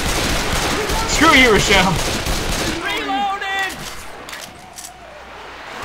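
Dense gunfire in Left 4 Dead 2 fills the first half as a loud, continuous burst close by, then drops away while voices shout over the action.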